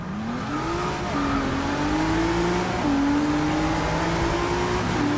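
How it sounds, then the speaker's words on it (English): 2017 Ford GT with a V6 engine in the Forza 6 racing game, revving loudly and steadily through rising and falling pitch sweeps, close and continuous for about five seconds with no talk. "That is one of the best sounding V6s I've ever heard."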